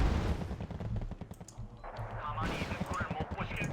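Artillery rounds landing in Wargame: Red Dragon, a dense run of rapid booming impacts and crackling blasts, rolling on steadily with heavier bursts near the end, under someone talking.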